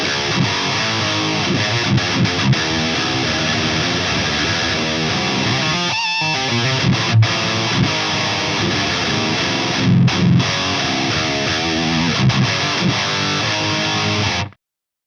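Heavily distorted metal guitar riffing through a Jensen Nighthawk 8 ohm speaker plays loud and continuous, with brief choked pauses, then cuts off abruptly at the end.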